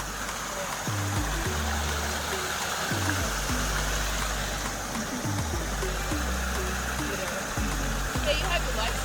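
Clear mountain stream of clean water running on an Arabia Mountain hike, a steady broadband rush with low rumbling underneath, close and continuous, while people talk and exclaim over it.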